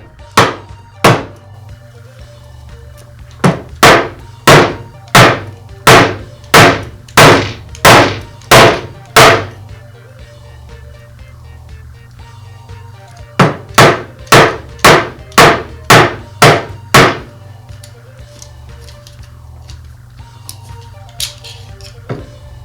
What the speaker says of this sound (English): Now I'll move to the edge of the housing against the table to remove the field the rest of the way.